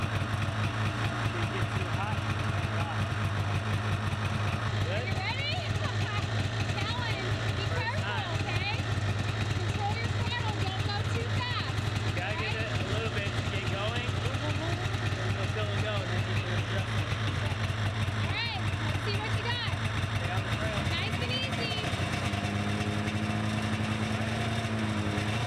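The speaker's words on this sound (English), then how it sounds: "packed them down with the snow machine so that they can come out and ride snow machines today" A snowmobile engine idles and runs in a snowy clearing in Alaska, a steady low mechanical drone throughout, shifting slightly in pitch near the end.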